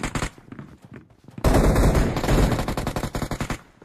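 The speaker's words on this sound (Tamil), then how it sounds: "ப்ரோ கத்தி கன் வச்சு அடிச்சிட்டேன் ப்ரோ" Rapid automatic gunfire from a shooting video game, dense bursts of shots with a sustained loud volley in the middle and quick repeated cracks toward the end.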